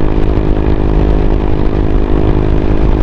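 A Honda Click 125i v3 scooter climbing uphill, its exhaust droning loud and steady at high revs with a harsh, buzzing tone throughout.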